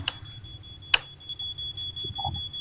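A fire alarm in a paranormal video game gives one sharp electronic beep near the start and a louder burst just before the one-second mark, with a steady high tone and a low rumble running underneath.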